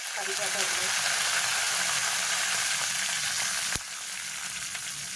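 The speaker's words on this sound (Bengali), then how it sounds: "কড়াইতে আবার তেল দিয়ে দিয়েছি দিয়ে প্রথমে আমি জিরে ফোড়ন দিচ্ছি" Cumin seeds sizzling in hot oil in a wok, a bright steady crackle and hiss close by that drops off abruptly near the end, with faint kitchen clatter.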